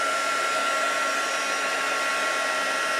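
A hair dryer blows steadily up close, drying a distress ink background on a craft card, a loud unbroken whoosh with no voices.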